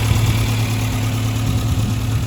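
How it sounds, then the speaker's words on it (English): A 1960 Sunbeam Rapier Mk 3 coupe's 1500cc twin-carburettor engine with alloy cylinder head ticking over at idle, a close, loud, even low rumble with steady pulsing throughout. "Ticking over quite nicely, 1500cc twin carb engine"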